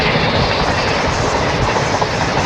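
Express train rolling past a Kacheguda–Madurai superfast train, loud continuous rail roar with clickety-clack of wheels over joints and a dense low rumble, close by and steady, with no talking.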